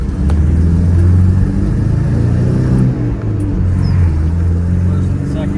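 A 1997 Toyota Hilux 2.4 diesel drives through the gears, its low engine drone steady and loud with slight shifts in pitch, while speech is faint or absent.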